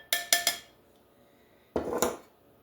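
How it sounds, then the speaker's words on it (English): Dry ingredients, including all-purpose flour for carrot cake sandwich cookies, are stirred in a bowl: three quick, close clinks of a utensil against the bowl, a pause, then a brief rattling scrape, with no talking. "Now let me mix my dry ingredients"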